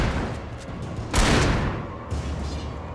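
Gunfire in the video game Alan Wake, one loud sharp blast standing out from a rumbling, noisy backdrop, followed by a smaller crack and a lingering roar.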